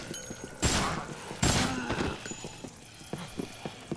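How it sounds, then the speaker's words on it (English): Gunfire in the zombie video game Dead Rising: two loud broadband bursts of shots, each lasting about a second, followed by scattered lighter pops and clatter in the game background. "Well, let's just keep shooting."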